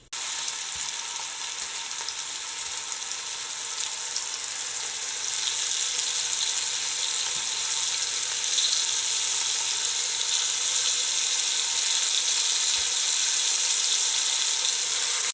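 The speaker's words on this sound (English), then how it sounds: "So just enjoy this nice, satisfying sizzle." Steady, loud sizzling of boneless beef short ribs searing in hot oil, a continuous crackling hiss that fills the whole stretch with no talking.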